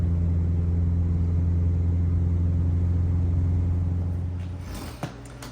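A Yugo car rolls around a building, its engine holding a steady, fairly loud low hum and rumble that fades toward the end, followed by a short sharp knock.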